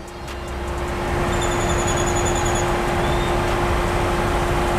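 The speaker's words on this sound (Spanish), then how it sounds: "aquí estamos manejándolo en modo Sport y no se escucha nada mal" Geely Tugella coupe driving in Sport mode, a steady muted engine and road drone from inside the cabin, rising slightly at the start and then holding even with a faint steady tone above it.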